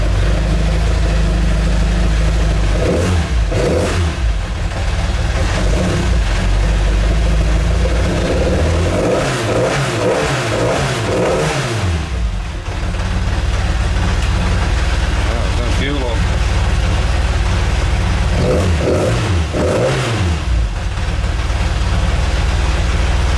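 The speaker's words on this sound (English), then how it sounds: "I'll start the engine up." A classic Mini race and track car engine starts and idles loudly up close, with repeated revs swelling and falling away over a rough, steady idle, while someone talks over it.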